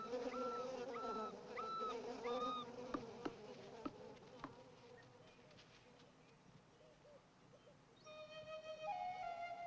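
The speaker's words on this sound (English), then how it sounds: "As suddenly as they arrived, the bees depart" A swarm of bees buzzes around a bear in the wild, a faint, continuous insect drone with a few brief tonal calls and scattered clicks, no voices heard.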